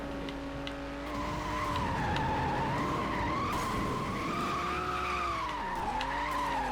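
Race car skidding under handbrake in the Hot Wheels World Race video game, a sustained tire squeal with wavering pitch over a steady engine drone, loud and continuous throughout.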